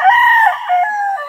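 A loud, close rooster crow on a chicken farm in Pangasinan rings out in one sustained call, with no other sounds around it.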